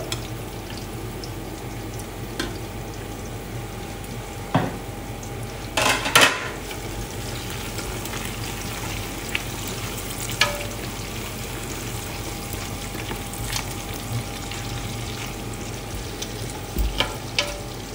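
Green chillies for chicken biryani sizzle steadily in hot oil, a continuous close frying hiss with a few sharp clinks of a utensil against the pot.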